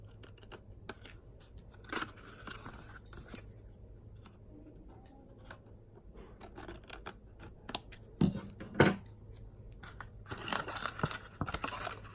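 Scissors snip a 12x12 paper sheet to trim overhang on a handmade card box, a series of faint, sparse clicks and crisp cuts with a few louder snips near the end.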